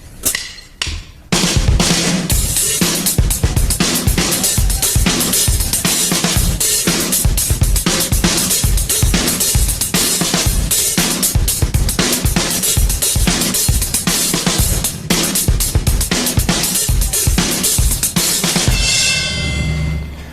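A full drum kit plays a steady, up-tempo pattern with hi-hat in a Latin-influenced style, loud and dense with regular strong hits throughout and a cymbal wash at the end.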